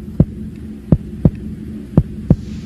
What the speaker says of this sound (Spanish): Los latidos que sentiste en tu pecho